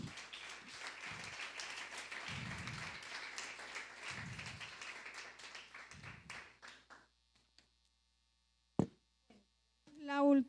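A church congregation applauds for about seven seconds, a steady crowd clapping that thins and fades out, followed by near silence with a brief voice near the end.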